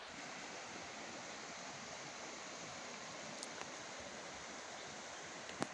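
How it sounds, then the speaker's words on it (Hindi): Rani Jharna waterfall gives off a steady, even rushing roar of falling water, constant and unbroken throughout, with no voices over it. "तो ये वही वाटरफॉल है रानी झरना"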